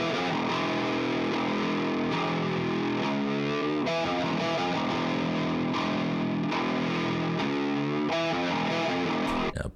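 High-gain electric guitar through an amp's rhythm channel, driven by an 808 overdrive into the boost, chugging dense distorted metal riffs with palm-muted rhythmic stabs, loud and saturated throughout with no voice.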